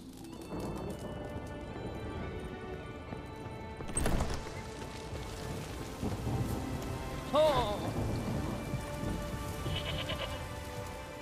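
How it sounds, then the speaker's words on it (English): Steady rain falling in the video game The Witcher 3, a continuous dense hiss with a few brief louder swells and faint background tones, heard alone without talk. "There's no point standing here in the rain."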